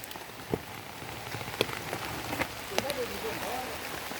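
Steady rain pattering on surfaces, with scattered louder drops and faint voices in the background.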